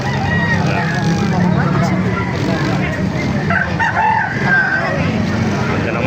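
A rooster crows loudly nearby at a market in Baliuag against steady outdoor background noise, with people talking at times.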